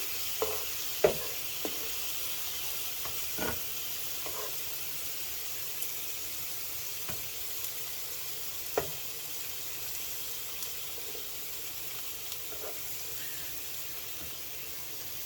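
Ham and vegetables cook on an omelette griddle with a quiet, even sizzle and hiss. Now and then a faint tap or scrape of a utensil cuts through, and nobody speaks.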